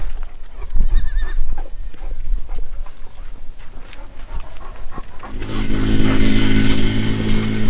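Goats bleating outdoors on a farm, several short calls early on, then a steady engine-like drone takes over in the second half.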